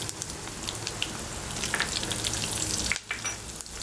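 Three dried red chilies and green chilies frying in a small amount of hot oil for okra tamarind gravy, a close, steady sizzle and crackle with a brief dip near the end.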